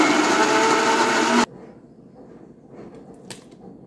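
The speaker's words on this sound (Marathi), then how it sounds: "आता हे अगोदर मिक्सरला फिरवून घेऊ।" A kitchen mixer grinder runs loud and steady, churning chilled cream for homemade ghee, then cuts off abruptly after about a second and a half, leaving quiet room noise.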